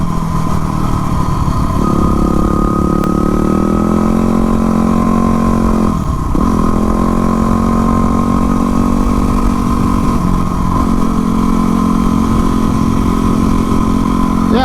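A Yamaha WR250R in supermoto trim is ridden along twisty roads, its engine droning loud and close, with pitch dips and rises as the rider shifts and throttles through bends.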